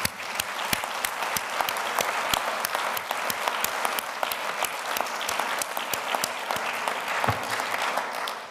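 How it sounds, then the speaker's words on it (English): Audience applause at a Black alumni reunion breakfast, steady dense clapping from a full room lasting throughout, loud and close. "They are deserving of another round of applause."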